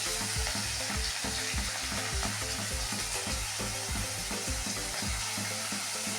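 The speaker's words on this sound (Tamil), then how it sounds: "இப்போ இஞ்சி பேஸ்ட்டு போடலாம்." Ginger paste frying in hot oil for a pattani kurma, a loud continuous sizzle with rhythmic scraping thumps from stirring throughout and no talking.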